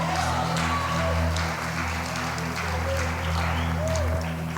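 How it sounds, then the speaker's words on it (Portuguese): A church congregation applauds during a worship service, a dense, sustained wash of clapping from a large indoor crowd, steady throughout with no break. "Dê um glória a Deus, aplauda o Senhor."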